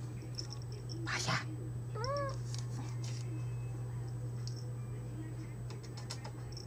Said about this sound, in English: Here, meet my kitty, Pasha.